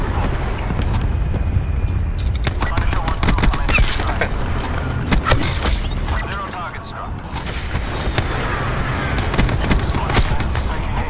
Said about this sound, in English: They're just shooting each other down.